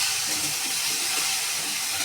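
Pointed gourd (potol) fries in oil in a pan, giving a steady, loud, close hiss of sizzling with no pauses and no talking.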